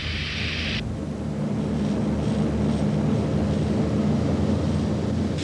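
The only remaining flying B-29 bomber runs its piston engines up for takeoff, a loud, steady, droning roar with a low throb that holds for several seconds after a short burst of hiss.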